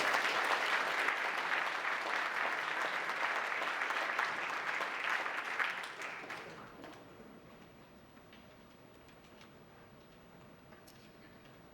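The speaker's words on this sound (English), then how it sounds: "So I'd like to have a big round of applause as we invite the new Science Collaborations Coordinator, Will Clarkson, up on stage" Conference audience claps as a speaker comes on stage: dense applause for about six seconds, then tapering off to quiet room tone with a few scattered claps.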